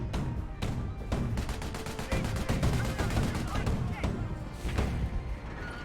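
Company of Heroes battle: a dense, continuous clatter of rifle and machine-gun fire mixed with heavy thuds from 25-pounder artillery shells and exploding landmines, loud and chaotic throughout.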